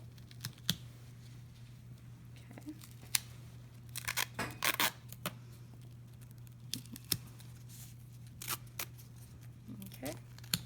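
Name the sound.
medical tape being torn and applied to a wound dressing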